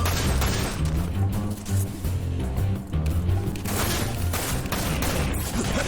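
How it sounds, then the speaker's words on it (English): Rapid gunfire and explosive booms fill a shooting sequence in the video game Dirge of Cerberus: Final Fantasy VII, with dense bursts of shots and impacts throughout and no speech. "He just runs head on into gunfire."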